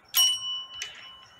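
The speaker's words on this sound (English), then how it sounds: "Operates the bell." A small bell on a Meccano model elevator with relay logic gives a short, bright ding that rings and decays, followed by a second fainter strike under a second later, heard alone and fairly quiet.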